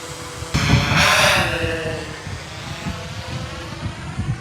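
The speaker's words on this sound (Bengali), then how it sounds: "আমি ড্রোনটা অলরেডি ফ্লাই করে ফেলেছি" A DJI Air 3 drone flies near a river, giving a steady high whirring drone-motor whine that starts suddenly and holds under occasional talk nearby.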